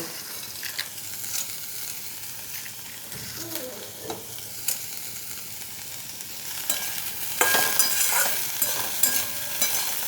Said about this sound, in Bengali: একটু ভালো করে ভাজা ভাজা হয়ে যাক